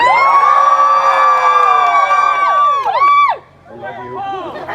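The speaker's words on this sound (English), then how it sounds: "For those of you that think the winner should be Dave today, give a cheer!" Renaissance festival audience at a Rogue Blades show yells and whoops in a loud, close burst of cheering that breaks off abruptly, followed by scattered calls and chatter.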